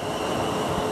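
A South Western Railway Class 444 electric multiple unit departs Southampton Airport Parkway, a loud, close, steady rumble and rail roar with no voices.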